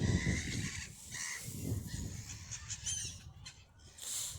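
Lake birds, an adult and a first-winter bird, squabbling with loud, close, repeated honks and harsh calls, bursts coming in quick succession over a busy outdoor background.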